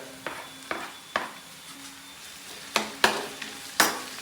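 Garlic and ginger sautéing in a pan for pork pares, a light sizzle broken by sharp clacks of a metal spatula striking the pan, irregular and close, with no talking.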